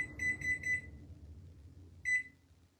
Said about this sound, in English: I'm sorry, y'all gonna have to hear the beeping.